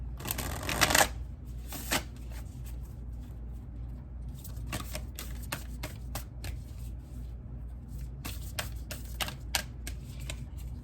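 Cards from an Animal Spirit Oracle deck being shuffled by hand in quiet indoor surroundings, with several bursts of riffling and flicking, a louder flurry at the start and further clusters later, and no talking.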